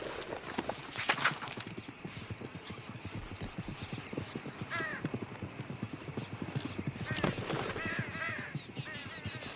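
A horse-drawn wagon in Red Dead Redemption 2 rolls along a track with steady clip-clopping hooves and creaking, a horse whinnying near the end, fairly close but moderately quiet.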